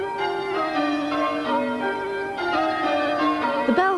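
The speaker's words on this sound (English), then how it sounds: "The bells are ringing in the village of Knapton in North Norfolk today" Church bells of St. Peter and St. Paul in Knapton, North Norfolk, peal continuously in overlapping, ringing tones, a full change-ringing sequence with no voices.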